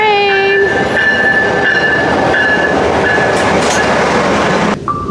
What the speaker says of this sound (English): There's my train.